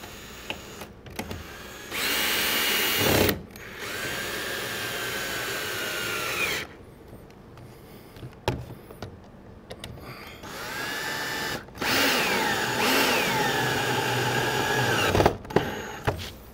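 Power drill driving screws into an Adirondack chair during assembly, with a few separate bursts of whirring that each last a second or several seconds, separated by quiet gaps and light handling clatter.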